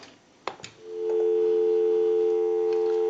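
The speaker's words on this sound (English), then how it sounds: "So we'll go ahead and give you some dial tone," A Western Electric 233G three-slot payphone gives a steady, loud dial tone after a couple of brief clicks as the handset goes off-hook, the tone holding evenly to the end.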